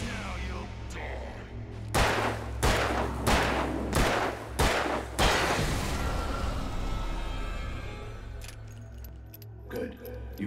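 Rapid gunfire from the Alan Wake video game: a volley of about six sharp, loud shots in quick succession, then a trailing reverberant rumble and scattered metallic clinks.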